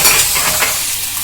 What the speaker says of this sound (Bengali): এইভাবে খুন্তি দিয়ে খুঁচিয়ে তুলে নিলেই কিন্তু উঠে যাবে।